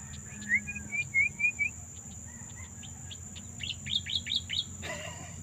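Birds chirp in short repeated phrases, a run of quick tweets early and another bright series later, over faint insect buzz.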